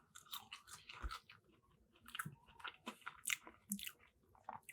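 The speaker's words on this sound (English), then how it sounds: "I'm about to be doing a lot of chewing in this video" Fries are chewed close to the mic, with soft crunching and biting sounds at an irregular pace and no talking over them.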